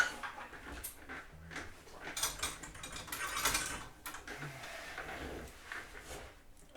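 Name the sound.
removing hinges from cigar box guitar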